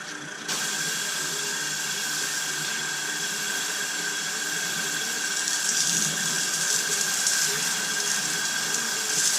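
Steady spray of rinse water hissing against a 2016 Tesla Model S P100D during a pre-rinse in a car detail, a continuous even wash with no talking.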